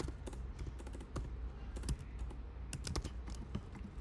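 Rapid, uneven clatter of keys on a computer keyboard, close and steady throughout, with no voice over it.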